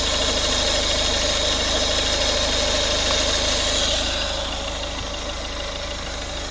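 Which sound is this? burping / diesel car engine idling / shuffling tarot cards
diesel car engine idling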